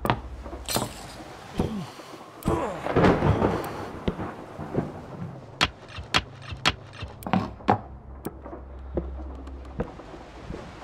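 A thunderstorm in the video game Rosemary's Fate, with wolves about: loud rolling thunder and sharp cracks over steady rain, the claps coming irregularly and close.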